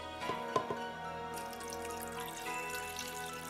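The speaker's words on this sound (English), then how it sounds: "we're gonna pour in our juice. So I have my grapefruit juice, and I have my orange juice." Grapefruit juice and orange juice pouring into a pitcher for a sparkling citrus punch, a steady close liquid stream with a few brief splashes near the start, no talking.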